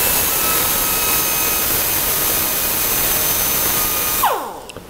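A rotary burr grinds the side of a riser on a metal casting with a loud, steady, high-pitched shriek close by. It ends with the tool spinning down and falling quiet.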